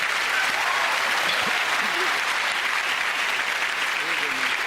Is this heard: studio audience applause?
yes